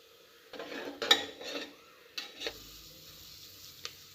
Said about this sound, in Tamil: அதுவும் நல்லா வதங்கட்டும் வெங்காயம்.